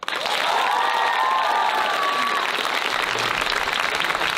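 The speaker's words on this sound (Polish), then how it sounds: "Brawa dla was!" Loud, dense applause from a television show's studio audience with cheering and a few shouts rising over it, sustained throughout.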